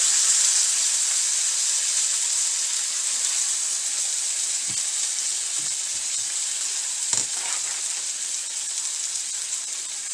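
Bacon frying in a pan, a steady bright sizzle that hisses continuously, with a few soft clinks and pops near the end.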